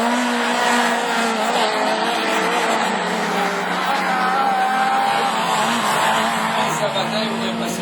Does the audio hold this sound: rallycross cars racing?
yes